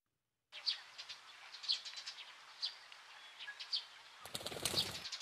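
Birds chirp in a video game in short, bright, repeated calls over a soft hiss, ending in a louder fluttering burst like wings flapping.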